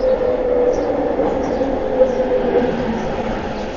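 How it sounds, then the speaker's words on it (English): A Vancouver Millennium Line SkyTrain heading to VCC Clark gives off a steady, fairly loud rumble and whir of rail travel, with the car's hum running evenly for a few seconds and no clear talking. "This is a Millennium Line train to VCC Clark."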